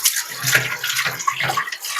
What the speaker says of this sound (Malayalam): നമ്മൾ അതിൽ ചെയ്യുന്നതിനകത്തേക്ക് വെള്ളം അങ്ങനെ ഒഴിച്ചു കൊടുക്കും.